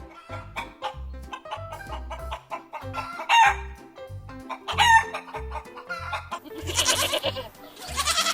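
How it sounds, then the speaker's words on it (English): Rooster crowing on a farm, a few loud drawn-out cock-a-doodle-doo calls rising over clucking fowl and other livestock sounds, close and clear. "They are also known to wake up farmers early in the morning with their crowing."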